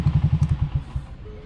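A motorcycle engine idles close by with rapid, low thumping pulses that slow and fade as it is switched off, leaving quiet background.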